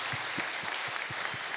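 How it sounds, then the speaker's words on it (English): A short burst of clapping from a conference audience, steady and dense for under two seconds. "this young lady deserves a big round of applause"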